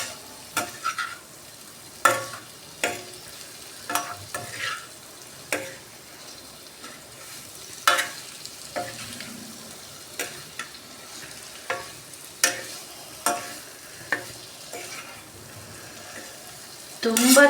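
Paneer cubes fry in oil in a pan under a soft, steady sizzle, punctuated every second or two by sharp clacks and scrapes of a spoon stirring against the metal, with no one speaking.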